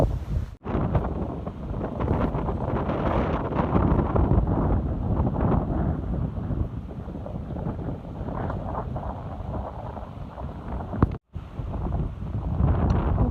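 Dry wind blows outdoors in Laos, a loud steady rush buffeting the microphone throughout, with one brief dropout near the end.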